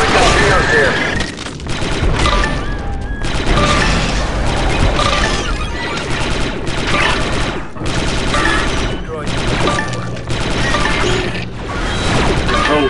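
Rapid blaster gunfire from the 2005 video game Star Wars: Republic Commando, dense and continuous across the whole stretch with mechanical clatter and brief lulls, while voices talk underneath.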